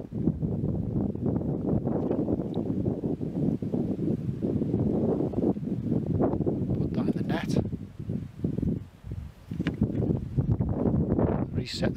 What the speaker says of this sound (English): Keep nets blowing around in the wind.